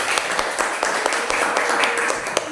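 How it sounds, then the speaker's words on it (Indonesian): Audience clapping for a presenter at the close of a teachers' training program event, a steady, dense patter of many hands with sharper claps popping out, continuing throughout at moderate loudness. "Beri tepuk tangan buat Bu Evi."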